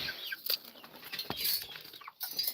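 Backyard chickens cluck and chirp softly in quick, scattered bursts at close range, with light rustling and flapping between the calls and no voices.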